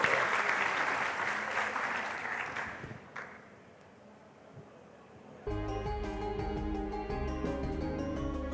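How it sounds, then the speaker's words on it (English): Audience applause at the Indonesia Bitcoin Conference 2023, a dense roar of clapping that swells, fades out and gives way to loud music. "Give a round of applause."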